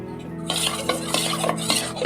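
A spoon scrapes and clinks against a cooking pot as cumin is stirred in, making a quick series of close metallic scrapes and taps after a brief quiet start.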